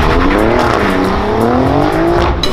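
A rear-wheel-drive V6 sports car revs hard while its tires squeal, a loud close continuous engine roar with a rising pitch and screeching rubber, on roads around Monaco.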